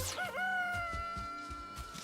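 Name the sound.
chicken clucking sound in a video game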